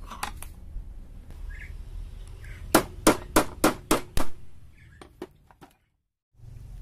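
A hammer strikes a part being tightened on the power steering of a diesel Mitsubishi L300, six fairly close metallic blows in quick succession, then a few fainter taps over a low workshop hum.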